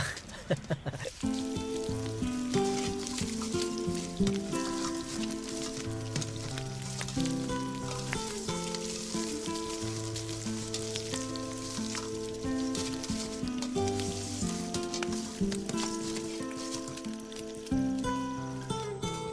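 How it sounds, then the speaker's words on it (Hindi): Cauliflower frying in a pan gives a quiet, steady sizzle throughout. It sits faintly beneath louder, continuous film music. "कॉलीफ्लावर है, मैं उसे ही फ्राई कर रहा हूँ।"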